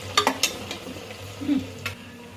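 Tomato and onion frying in a pan for a Marathwada-style biryani, with a few sharp spoon-on-pan scrapes and clicks over a low, steady sizzle, all fairly quiet and close.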